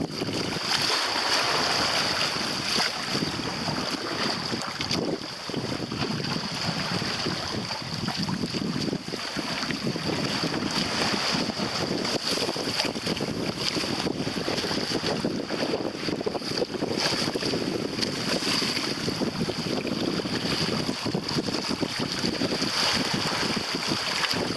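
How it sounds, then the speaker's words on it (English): A sailboat runs under steady wind down Pine Island Sound during the Watertribe Everglades Challenge, with continuous wind rushing over the microphone and water washing past the hull, loud and unbroken for the whole stretch. "We're having a good sail down Pine Island Sound."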